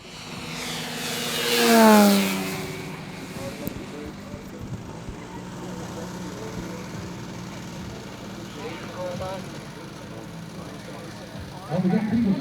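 A radio-controlled scale P-51 Mustang warbird model engine passes at a model air show, a loud swelling drone peaking early then fading to a steady distant hum under ongoing talk.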